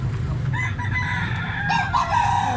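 A talisayo gamecock rooster crows loudly and close by in one drawn-out call, over a low background rumble.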